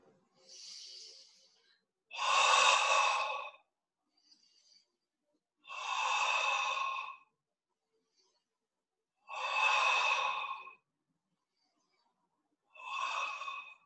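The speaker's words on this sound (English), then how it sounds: "Now make your breathing a little more dynamic." Forceful breathing during a tai chi exercise: four loud, breathy exhalations of about a second each, spaced a few seconds apart, with softer breaths between, close and alone.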